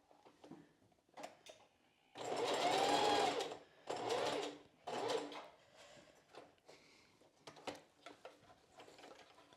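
A sewing machine understitches bra lining to the seam allowance, running in a few short close bursts with one longer steady whir, between quiet handling clicks and rustles.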